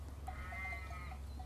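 Sheep bleat from a flock beside a pasture, a short wavering call rising over a steady low rumble, fairly close and without talking.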